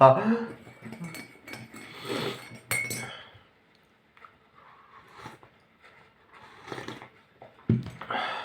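A metal spoon clinks against a cup of coffee several times in quick bursts while stirring in sugar, interspersed with quiet pauses and some nearby talking.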